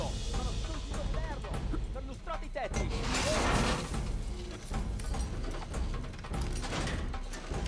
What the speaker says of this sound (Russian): тут стекляшки на них посыпались